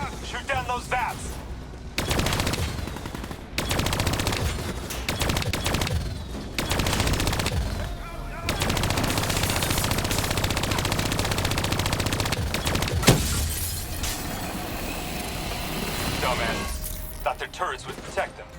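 Dense, loud gunfire from the video game Call of Duty Black Ops 3: sustained machine-gun bursts and explosive crashes, near and continuous, with brief pauses between volleys.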